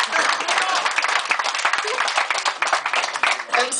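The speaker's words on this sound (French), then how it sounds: "Applaudissez quand même." Dense audience applause fills the whole stretch, a loud close wash of many hands clapping at once with a few sharper claps poking through, and voices mixed in underneath.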